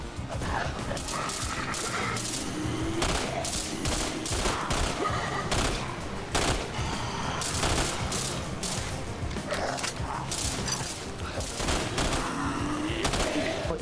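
Repeated gunfire bursts in the Roblox zombie-survival game Michael's Zombies, fast dense shots layered over game noise and effects, continuous and moderately loud throughout.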